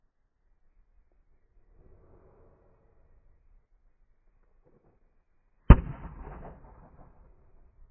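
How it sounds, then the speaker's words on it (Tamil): A single sharp crack of an arrow firecracker bursting during Diwali cracker testing follows a long quiet stretch with faint murmurs, the loud bang trailing into a brief crackling decay. "குச்சி வந்து வெடிச்சிட்டு குச்சி மட்டும் அவ்வளோ தூரம் பறக்குதுங்க"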